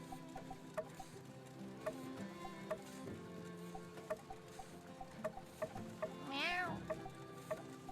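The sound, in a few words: cat meowing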